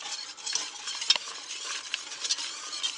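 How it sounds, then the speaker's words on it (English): A roux is whisked in a pan until smooth, with a light scraping and swishing of the whisk against the metal and a faint sizzle, quiet and steady, with no voices. "when you add to a roux, you add a little bit of thyme and you stir until it's smooth"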